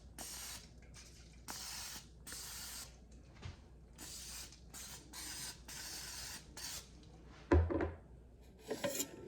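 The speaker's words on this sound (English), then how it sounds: "we're gonna coat them with this cooking spray." A can of cooking spray coats chicken nuggets sitting in an air fryer basket, several sharp hissing bursts of a second or two each, close and separated by short pauses, ending with a few clattering knocks.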